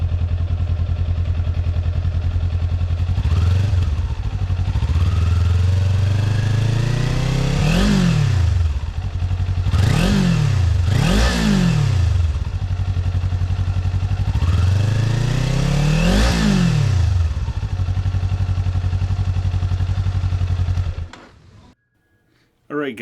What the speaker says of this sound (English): a few little revs with this, just so you can hear the stock exhaust